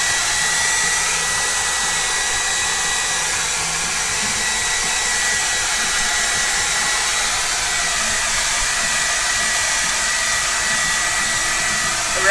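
A hair dryer blows steadily to dry paint in an art journal, making a loud, close, unbroken whooshing roar that holds at one level throughout with no talking.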